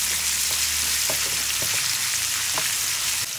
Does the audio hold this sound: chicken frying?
yes